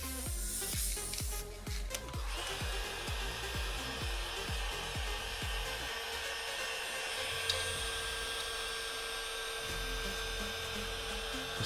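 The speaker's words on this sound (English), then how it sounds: "the heat gun helps a lot. Speeds up your drying times." A heat gun blows a steady, loud roar to dry fresh paint on a small Audi bodywork repair, continuous and close with no talking, after a brief stuttering start.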